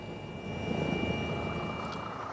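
A rescue helicopter comes in to land, its rotor and engine giving a steady, continuous broadband roar that stays close and fairly loud throughout, with no voices over it.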